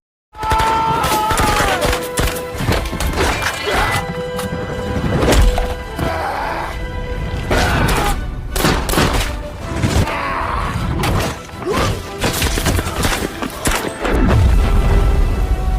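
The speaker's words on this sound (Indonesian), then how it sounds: "Mereka pun langsung menyerang para tentara Nazi, dan terjadilah pertempuran jarak dekat." A close-quarters gunfight between soldiers and Nazi troops in the war film Stalingrad, loud and dense with rapid gunfire bursts, single shots, booms and chaotic battle noise sustained throughout.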